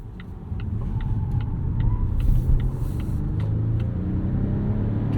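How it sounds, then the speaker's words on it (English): Steady road and engine rumble inside a 2023 Volvo S60 Recharge, a 455-horsepower hybrid sedan, driven on a twisty road, with a constant low drone, mild swells and faint ticking, no voices. "we're going to take this spirited twisty road up here, and we'll go around some corners in this S60"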